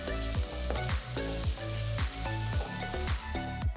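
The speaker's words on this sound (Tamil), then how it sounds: "நெக்ஸ்ட் ஒரு சின்ன கொத்து வெங்காயத்தாள் வெங்காயம் பொடியாக நறுக்கினது போடுறேன்" Chopped spring onions sizzle in a frying pan while making garlic egg fried rice, a steady close hiss broken by rhythmic scraping stirs about twice a second.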